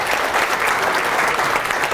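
Steady applause from an audience at a county chamber of commerce gathering, dense continuous clapping filling the room for the full stretch without pause.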